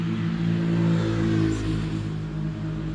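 A car passes along a residential street in the morning, its engine a loud, close rumble that swells around the first second and then eases off steadily.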